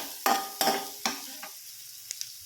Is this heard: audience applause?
no